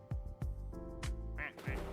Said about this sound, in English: Here comes the ducks.